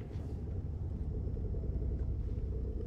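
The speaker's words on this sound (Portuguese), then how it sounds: "Olha, nossa, os carros passam" Cars pass by outside a house in the horror game Fears to Fathom: Home Alone, a low, steady, muffled rumble of traffic at a distance, faint and continuous with no talk.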